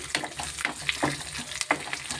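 Tempering spices sizzle in hot oil in a home kitchen, a steady frying hiss broken by repeated sharp crackles and pops as the spices spit, alone with no talking.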